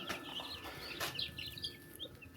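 Young chicks peep in soft, rapid chirps that overlap against a steady background hum, fairly faint and close by.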